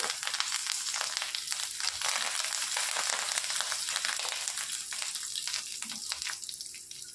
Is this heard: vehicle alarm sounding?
no